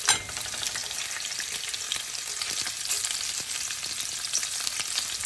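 Shrimp fry in a pan on low heat with oil, giving a soft, steady sizzle with scattered small pops, close by and fairly quiet throughout.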